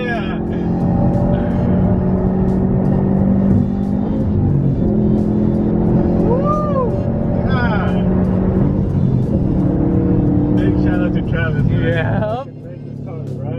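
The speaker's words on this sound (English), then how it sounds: "We just ran through all the gears and this thing is shifting spot on, pulling and everything." A tuned 2020 Subaru STI on a dyno, its engine droning hard and steady as it pulls up through the gears, with voices shouting and talking over the loud, continuous roar.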